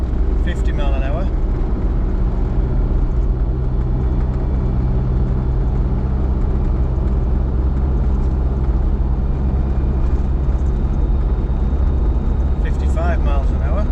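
Land Rover Discovery 1 driving in fifth gear at around 50 mph, a constant low drone and road rumble throughout, with short bursts of speech at the start and end.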